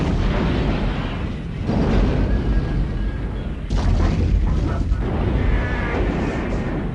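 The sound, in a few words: building explosion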